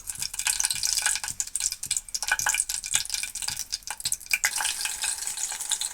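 Green chillies frying in heated oil in a pan for a pumpkin curry crackle and pop in a busy, uneven stream of sharp spits and sizzles, close and moderately loud with no talking.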